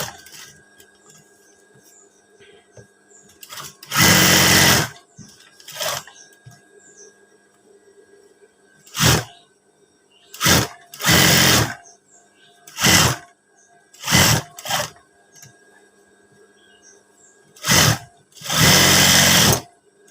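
A sewing machine stitches fabric for a school uniform blouse in loud, close bursts of varying length, separated by quiet pauses with faint handling noise.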